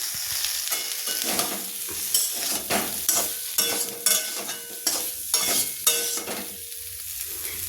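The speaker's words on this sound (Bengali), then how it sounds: "সোয়াবিনটাও এই ভাজার মধ্যে দিয়ে দিচ্ছি একসঙ্গে এটা ফ্রাই হয়ে যাবে" Soybean chunks, potato and pointed gourd fry together in a wok, a steady sizzle punctuated by rhythmic stirring scrapes about once a second, close and clear.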